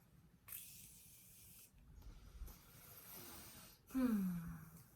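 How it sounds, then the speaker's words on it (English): Morphe setting mist sprayed onto a face, a few short close hissing spray bursts separated by pauses, with quiet room sound between. "I'm going to take a little bit of Morphe setting mist, and we're gonna set the face."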